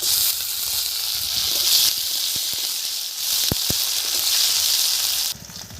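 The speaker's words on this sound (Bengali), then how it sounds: "কেটে একেবারে তেলে দিয়ে দিচ্ছি।" Sliced garden tomatoes frying in hot oil in a village kitchen, a steady loud sizzle with a few sharp crackles, the hiss dropping off abruptly near the end.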